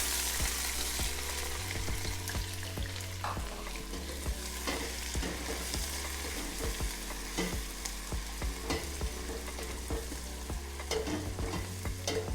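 Onions fry in warm oil for coconut rice, a soft continuous sizzle broken by frequent clicks and scrapes of stirring, fairly quiet and close, with low background hum and no talking.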